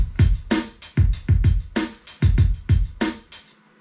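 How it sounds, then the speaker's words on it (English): A 90s-style up-tempo battle rap drum beat, with punchy kicks and snappy snares hitting in a fast, steady pattern with delay, loud and close, then stopping abruptly. "So my drums sound like this."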